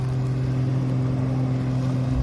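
An off-road vehicle engine hums low and steady with a rumbling drone on wet hills, heard up close without any talk.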